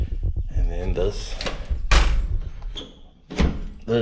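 A stiff bathroom door at a resort is forced open with a couple of knocks and a heavy thud, loud and close, mixed in with a person talking.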